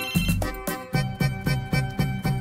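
A phone rings in a repeating electronic ringtone, five or six evenly spaced bursts with a tonal melody, loud and close, with no voices over it.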